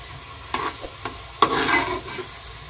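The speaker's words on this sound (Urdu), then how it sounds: "پیاز کو لائٹ براؤن کر رہا ہوں میں" Onions browning in a pan for an egg curry, with a few scattered stirring scrapes and soft bursts of sizzle, a louder spell of spatula movement in the middle, no voices.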